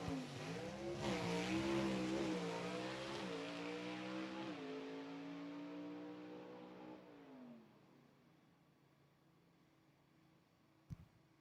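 A Ford Falcon drag car powered by a Chevrolet engine roars down the strip at a dragway, revving loudly through rising gear pulls, then fading into the distance before a brief sharp pop near the end.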